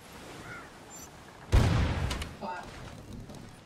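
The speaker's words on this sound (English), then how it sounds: "Fire those cannons at him, boys!" Ship cannons fire in a Family Guy video game, a sudden heavy boom that rumbles and fades, with a second softer blast after it amid game sound effects.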